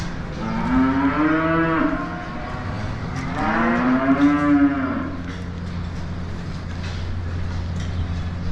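Brown Swiss breeding-age heifers, about 13 to 14 months old, moo on a dairy farm: two loud, drawn-out calls close by, the second rising and longer, over a steady low barn hum.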